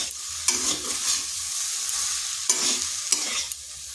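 Ivy gourd (kundri) stir-fries in a pan with no water under a constant sizzle. Distinct spatula scrapes cut through every second or so, close and fairly loud, with no voices.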